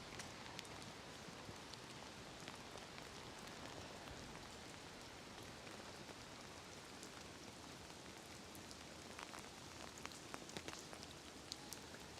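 Steady rain falls on a wet, chilly Tokyo street in cherry blossom season, a dense continuous hiss of drops hitting the ground with occasional louder nearby drips, no talking over it.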